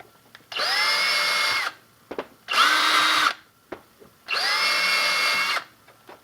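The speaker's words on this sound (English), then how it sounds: "I'm going to deburr the holes before I do the sawing with a thing called a countersink" Power drill fitted with a countersink bit deburring drilled holes in homemade camping gear, three sustained whirring bursts of about a second each, close and loud, with short pauses and faint clicks between.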